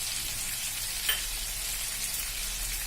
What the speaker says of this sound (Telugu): పచ్చిమిరపకాయలు టొమాటోస్ వేగుతున్నాయి అన్నమాట ఈ పచ్చిమిరపకాయలు టమాటాలు నూనెలో బాగా మగ్గిపోవాలి